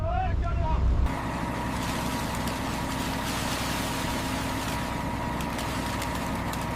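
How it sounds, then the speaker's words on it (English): A winch on a super-trawler hauls a heavy trawl line, producing a loud, steady mechanical drone that shifts in tone after the first second, with muffled voices faintly underneath. "Slow the winch down, it's too heavy."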